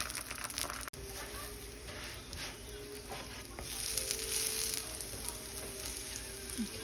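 A tortilla frying in grease in a pan, giving a steady crackling sizzle close up, with a faint voice underneath and a brief clatter near the start.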